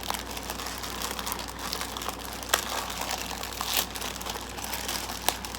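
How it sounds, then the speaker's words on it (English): A package being unwrapped, its paper crinkling and rustling continuously at close range, with a few sharper crackles. "I have a package, so let's open it and see what it is."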